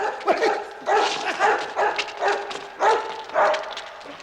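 A dog barks and yips repeatedly in short bursts, close by, with whimpering tones between the barks.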